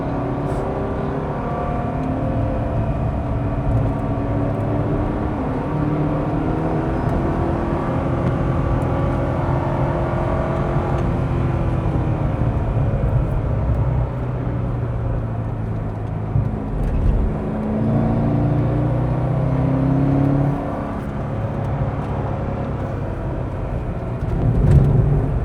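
Stock Corvette Z06 running on old ten-year-old tires at the Nürburgring, its engine droning and straining from inside the cabin, steady tones rising and falling with revs, loud and continuous without talk.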